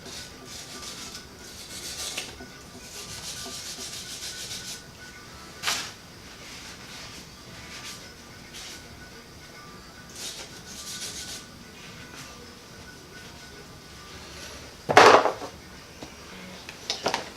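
Rust being rubbed off the nub on the back of a torque converter in a garage, a steady scraping and rasping that repeats in short strokes, with a sharper knock near the end.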